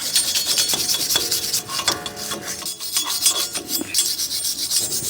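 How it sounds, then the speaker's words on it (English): A brake hub face on a Pajero Sport is scrubbed clean with a harsh, rasping scrape in quick repeated strokes, close and loud with no talk. "now you got to clean the face of this hub"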